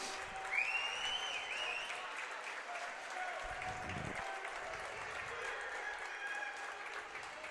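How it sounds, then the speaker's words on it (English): A high school basketball crowd at a district final gives a steady ovation as a senior player leaves the floor, the applause and cheering heard from a distance while an announcer talks over it. "Logan with a big Slama ovation"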